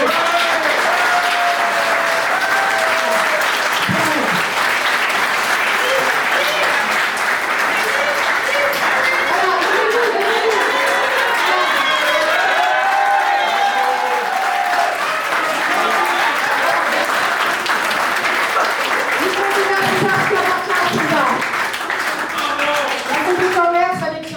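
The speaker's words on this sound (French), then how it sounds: "L'équipe du service juridique, vous pouvez les applaudir." Sustained applause from a large audience at a union congress, many hands clapping steadily and loudly for over twenty seconds, with crowd chatter and scattered voices layered throughout.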